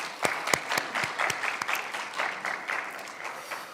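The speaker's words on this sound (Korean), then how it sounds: "박수 한번 하시죠" A church congregation gathered for an early-morning prayer service claps together in a burst of applause. Dense, close clapping keeps a loose rhythm and carries on steadily for a few seconds with no speech over it.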